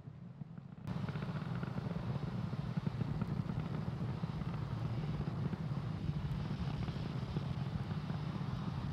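A SpaceX Falcon 9 rocket in supersonic flight produces a continuous, low, faint rumble that stays fairly even from start to end after a quiet opening moment.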